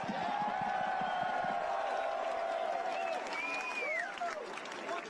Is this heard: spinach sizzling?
no